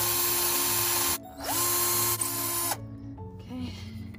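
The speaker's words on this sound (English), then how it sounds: "So now we're just gonna drill it." A power drill drives screws into wood while a chicken swing is built, two loud whirring runs with rising pitch and abrupt stops, then a short quieter burst, close up.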